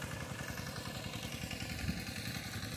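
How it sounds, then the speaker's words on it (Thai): An engine-driven water pump runs beside a rice paddy, pumping water into the field with a steady fast-pulsing mechanical chug and clatter, continuous and fairly close, with no voices. "เจ้าก็สูบน้ำขึ้นมา"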